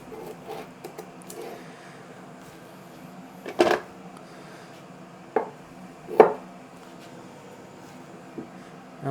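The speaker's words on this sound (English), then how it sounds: "I have some parsnips as well. So I'll just cut those in half." Parsnips are cut in half with a knife on a board during home Sunday meal prep, giving three or four distinct, sharp chops spaced a few seconds apart over a quiet kitchen background.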